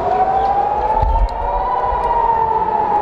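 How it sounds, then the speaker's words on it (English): A loud, steady wailing siren holds a sustained tone throughout, with a brief low rumble partway through. "This alarm plays whenever they're like going to war with someone."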